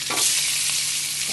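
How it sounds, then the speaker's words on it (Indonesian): Crushed garlic sizzles in butter in a hot pan, a steady loud frying hiss with a couple of brief stirring scrapes, no voices. "Tumis bawang putih."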